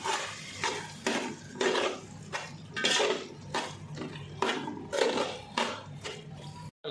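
Tomatoes and green chilies being stirred into chicken biryani masala in a large pot, a repeated scraping of a spoon against metal in an uneven rhythm, close and moderately loud.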